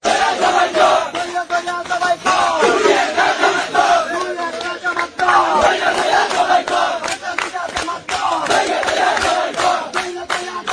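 A large crowd chants political slogans in loud, rhythmic unison, a dense roar of many voices that runs steadily for the whole stretch with only brief dips between phrases.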